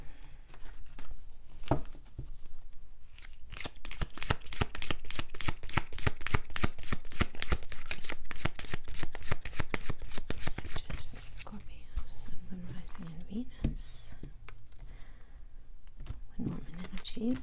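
Lenormand cards are shuffled in a rapid run of soft riffling flicks that speeds into a dense patter, followed by a few papery slides and taps, close and quiet, with a faint voice near the end.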